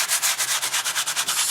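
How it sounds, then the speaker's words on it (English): A sanding block lightly sands a raised stencil on a flat piece of wood, making a close, steady run of rhythmic back-and-forth rasping strokes with no talk. "I'm just going to lightly sand away"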